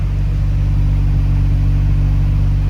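A Nissan R32 GTR on stock turbos idles close by in a cool garage, a loud, steady low rumble with no turbo whoosh, running evenly without stalls or backfires.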